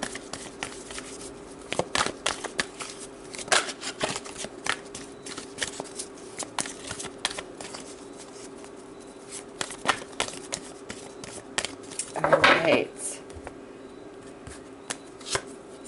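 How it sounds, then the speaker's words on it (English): Tarot cards being shuffled and pulled from the deck, a close run of quick papery riffles and flicks with a louder burst of shuffling near the end, and no voices. "Let's pull some more cards here."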